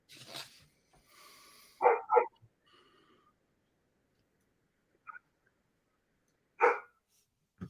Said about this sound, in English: That's your dog, man.